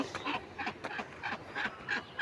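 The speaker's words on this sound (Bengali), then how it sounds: "দেখেন হাঁসের যন্ত্রণায়" Domestic ducks quack in a quick series of nasal calls outdoors near a garden, about seven or eight bursts in rapid succession at moderate distance, with no talking.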